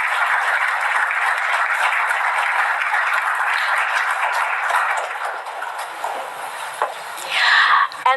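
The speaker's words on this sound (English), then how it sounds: "another warm round of applause for the President of the Philippines" An audience at an economic briefing in San Francisco gives the President of the Philippines sustained applause that stays dense and even, then thins toward the end, followed by a brief louder burst near the close.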